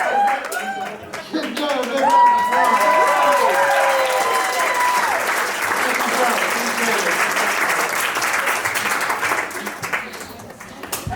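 A magic-show audience applauds after the vanishing banana trick, dense clapping rising quickly and holding steady for several seconds before thinning, with a performer's voice talking over it.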